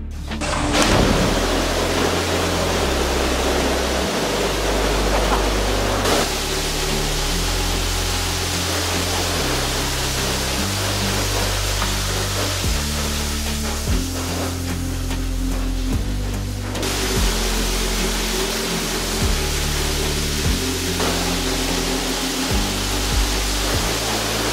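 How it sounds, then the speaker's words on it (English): Relentless high-pressure water spray pounds a Phoenix ModCom 3 light fixture in a durability test, a loud, steady broadband hiss and roar running continuously, with a low mechanical hum shifting beneath it. "we're gonna see if it can withstand 15 minutes of this relentless"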